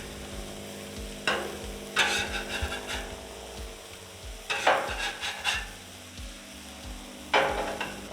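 Eggs and pancakes frying on a griddle, a constant close sizzle broken by several bursts of spatula scraping and stirring at irregular intervals.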